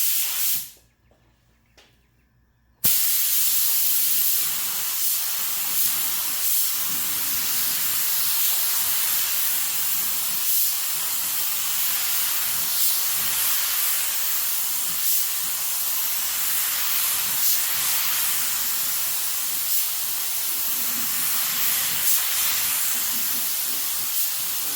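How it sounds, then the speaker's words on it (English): A short quiet pause, then a continuous loud hiss of a spray gun applying coats of Zaffre blue paint over Rust-Oleum Ink Blue, running steadily to the end, pulsing slightly. "So let's go ahead and spray a few coats."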